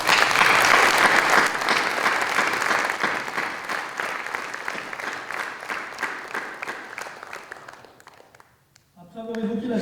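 Applause from an audience at a New Year's greetings ceremony in Aix-en-Provence, loud dense clapping that gradually thins and fades, breaks off near the end, then gives way to a voice.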